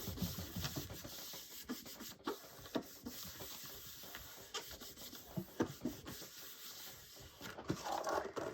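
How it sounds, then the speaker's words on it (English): Paper is rubbed firmly down by hand onto a handmade Halloween travellers-notebook-style journal, giving a faint, continuous scratchy rubbing with small irregular strokes. "So give it a good rub."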